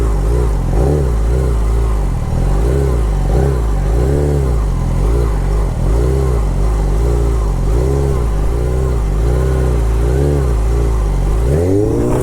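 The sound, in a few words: bike engine revving during sit-down circles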